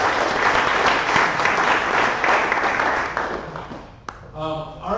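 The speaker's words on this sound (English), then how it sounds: "Another round of applause for everybody that's here." An indoor audience at a community tech meetup applauds, a dense, steady wash of clapping that fades out near the end, followed by a brief clack and the start of a voice.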